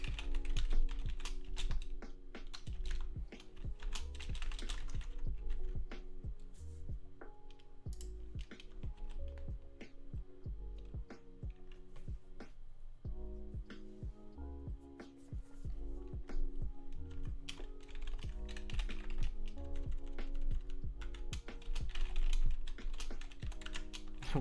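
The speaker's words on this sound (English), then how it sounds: "There's a lot of typing here" Steady, quick typing on a computer keyboard during a game-building livestream, the clacks running continuously for nearly half a minute at a close, even level over a low background hum, with no speech.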